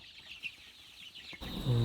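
Native desi chickens clucking softly at a poultry farm, a few faint, short clucks before a sudden louder burst of noise closes the moment.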